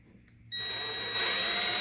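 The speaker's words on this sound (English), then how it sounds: "I'm just using a regular drill, my smallest bit" An electric drill with a small bit spins up and bites into a wooden rustic sink to pre-drill a screw hole, a steady close whine after a brief quiet start, rising louder partway through.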